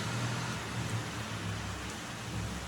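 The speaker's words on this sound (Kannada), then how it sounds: "ಸಿಕ್ಕಾಪಟ್ಟೆ ಮಳೆ ಇದೆ" Heavy rain with strong wind pours steadily with a dense, unbroken hiss and a low rumble underneath.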